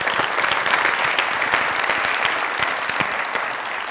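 A studio audience at a Pakistani comedy talk show claps steadily and loudly for a guest called up on stage, a dense, continuous wash of applause lasting the whole stretch.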